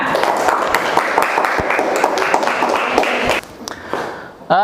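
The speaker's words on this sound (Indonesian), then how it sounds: "Oke, tepuk tangan." Students in an Indonesian madrasah classroom clap together, a dense burst of applause lasting a few seconds before breaking off into a few scattered claps.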